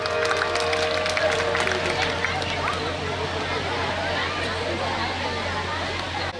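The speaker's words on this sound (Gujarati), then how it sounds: "વધાવો જોરદાર તાળીઓ" A crowd claps to welcome a bhajan singer at a Sati Maa consecration festival in Moti Pipli, a dense, steady patter of applause over a low amplified hum, fading slightly toward the end.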